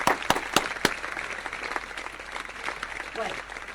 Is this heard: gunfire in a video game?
no